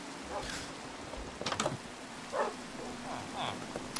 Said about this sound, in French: Il pleut, y a pas de nuages.